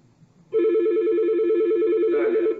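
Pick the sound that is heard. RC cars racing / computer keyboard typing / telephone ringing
telephone ringing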